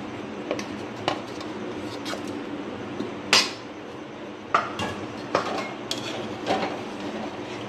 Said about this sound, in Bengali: আগে থেকে ভেজে রাখা আলুগুলো দিয়ে দিচ্ছি।